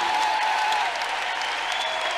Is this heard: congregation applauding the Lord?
yes